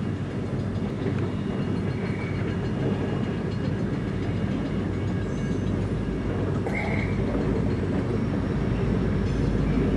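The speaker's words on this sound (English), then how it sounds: "7:40 building its train in the Wenona Yard" Freight train being built in the HESR Wenona rail yard, a loud, steady rumble of rolling railcars with rhythmic wheel clatter and a few faint squeals, continuous with no voices.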